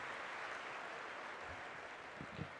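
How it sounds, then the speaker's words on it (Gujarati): Faint, steady applause from an audience welcoming a speaker to the podium at a motivational lecture, a soft continuous patter heard from a distance with a few slightly louder claps. "તાળીઓના નાદથી આપણે એમને વધાવીએ છીએ."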